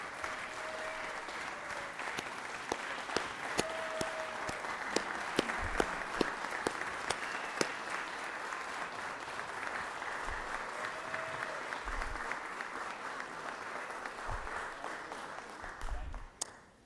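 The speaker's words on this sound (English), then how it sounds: "If you guys would give them a round of applause" Sustained applause fills the Georgia Senate chamber for a staff team, steady clapping with a few sharper individual claps and faint tones, fading out near the end.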